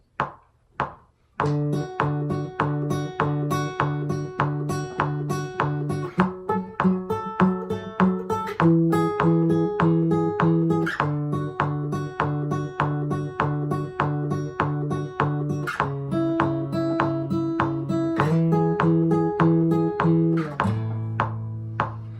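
Acoustic guitar chords strummed at a steady 100 BPM, each strum crisp and even, with the chord changing every few bars and no voices.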